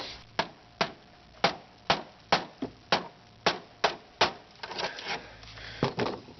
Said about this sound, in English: Let me grab a hammer.